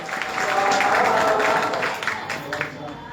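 Applause welcoming a guest to the dais at an Urdu-language ceremony held by ARHUM Trust for a competition on Mahatma Gandhi's life: a broad burst of clapping from the audience that swells and then fades, with talk mixed in.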